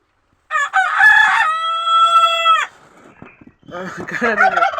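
Backyard chickens cluck and a rooster crows nearby in a loud, sustained harmonic call, followed by more clucking and squawking, with no talk over it.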